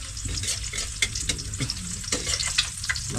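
Fish sizzling and frying in a pan at a home breakfast cook-up, a steady close crackle with occasional sharper pops and spits throughout.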